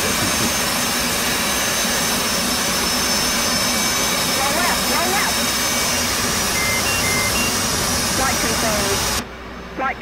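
F/A-18C jet engine in DCS World spooling up with a steady, loud broadband roar and whine, with a voice talking over it until the sound cuts off abruptly near the end.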